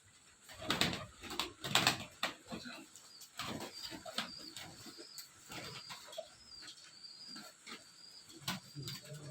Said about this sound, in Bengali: পায়রা খাচ্ছে দেখুন।